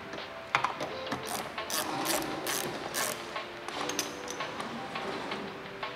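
Close ratcheting clicks come in quick bursts as a 10 mm bolt is loosened on a Kia Stinger door while a door handle is being removed. The sound is fairly quiet, with short pauses between bursts.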